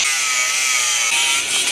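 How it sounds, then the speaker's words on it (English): A grinder cuts into metal during an Acura K24 engine teardown, giving a continuous loud, high, hissing whine that holds steady and close throughout. "Can't hide from the grinder."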